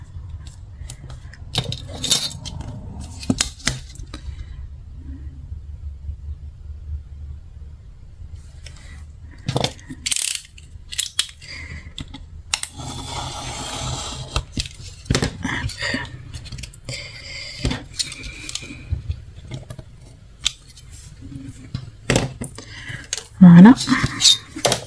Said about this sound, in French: quand c'est trop grand, hop, on recoupe un petit peu